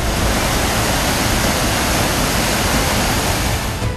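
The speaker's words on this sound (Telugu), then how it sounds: "మూసి ప్రవాహం ఎంజీబీఎస్ దగ్గర ఎంత భీకరంగా ఉందో చూడండి" The flooded Musi River near MGBS rushes past in a steady, loud, close roar of churning water, an unbroken broadband wash with no voices over it.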